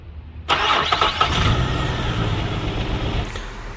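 A Nissan car engine cranks and catches after an ECU injector-driver repair, then settles into a loud, rough idle that continues for several seconds.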